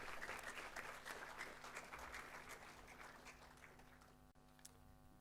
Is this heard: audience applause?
yes